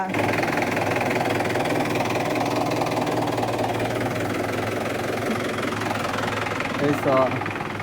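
Mahindra tractor engine working soil in an areca plantation, a continuous loud, rumbling drone with knocking vibration, close by and steady throughout, with voices talking over it.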